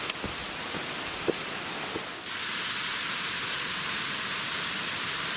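A creek flows below a hiking trail in a steady broadband rush of water, heard at a distance with a few soft footstep or gear taps early on and the wash growing slightly louder midway.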